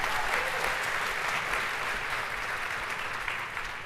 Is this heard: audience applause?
yes